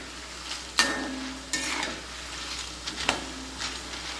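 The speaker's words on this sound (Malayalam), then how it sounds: "നമ്മുടെ ചക്ക നന്നായി ഫ്രൈ ആയിക്കൊണ്ടിരിക്കുന്നുണ്ട്." Jackfruit slices frying in boiling oil for homemade chips, with a steady close sizzle broken by a few sharp metallic clinks and scrapes of a ladle against the pan, no talking.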